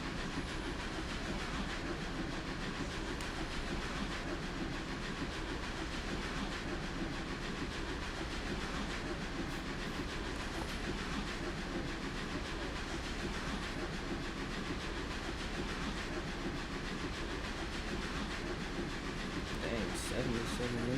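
A train runs on rails in the Trainz simulator game, a continuous dense rumble with steady rail noise and some hiss that holds at one level for the whole stretch.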